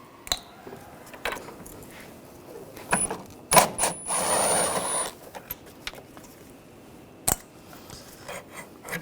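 A 10mm socket wrench ratchets off the nuts on the power steering reservoir of a 2006–2010 BMW 550i with a 4.8L V8, giving sharp metallic clicks and a short burst of rapid ratcheting close up in a quiet garage.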